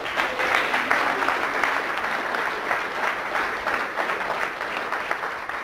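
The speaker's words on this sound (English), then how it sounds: "Big round of applause for the lady." A seminar audience breaks into steady, sustained applause, many hands clapping together in a dense even roar that holds for several seconds.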